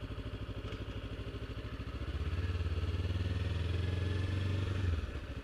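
Motorcycle engine rumbling close by, a low, throbbing drone that swells louder for a few seconds and then drops back, with no talking.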